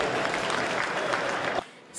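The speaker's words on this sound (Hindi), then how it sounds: "ज़ोरदार तालियों से उनका इस्तकबाल करें" A poetry gathering's audience breaks into loud, dense applause to welcome poet Sarita Jain, holding steady before cutting off abruptly.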